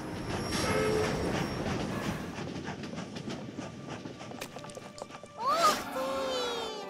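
A train in the animated show My Little Pony: Friendship Is Magic rolls along the rails with a steady rumble and rhythmic clicking, then a brief metallic wheel squeal rises near the end.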